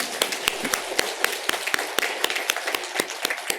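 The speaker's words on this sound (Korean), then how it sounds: "세례 받으신 거 진심으로 축하하는 마음으로 힘차게 박수하겠습니다." Church congregation clapping during a Sunday service to congratulate people just baptized, heard as a steady run of sharp, evenly spaced claps, roughly four per second, over a diffuse room wash with no voices.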